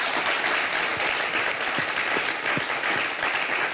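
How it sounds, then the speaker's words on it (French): A crowd applauds steadily for a woman called Kocha at a lively fashion-show-style event, a dense wash of many hands clapping at even loudness for the whole stretch, with no voices coming through. "Applaudissez pour Kocha mon chic."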